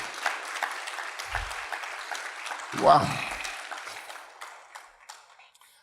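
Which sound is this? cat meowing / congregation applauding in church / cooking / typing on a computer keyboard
congregation applauding in church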